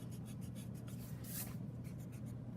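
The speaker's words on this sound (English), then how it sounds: "I'm going to erase anything" Eraser rubbing over a pencil drawing of a split rail fence in one-point perspective, a soft, steady, quiet scratching that continues without pause and with no voices.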